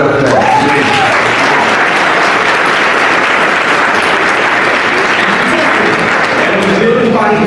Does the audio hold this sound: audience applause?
yes